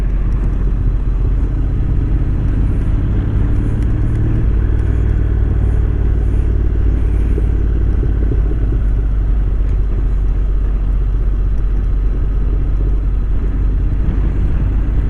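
Motorbike descending the steep 10% Trollstigen mountain road in low gear, a loud, steady engine rumble over constant wind buffeting, continuous and close throughout.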